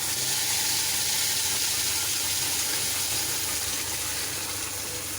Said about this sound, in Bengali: তেলটা গরম হয়ে গেছে, এর মধ্যে আমি পেস্টটা দিয়ে দেব।